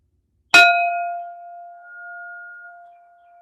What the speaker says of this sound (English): Bell 1.